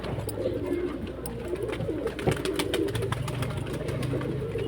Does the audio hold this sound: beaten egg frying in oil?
no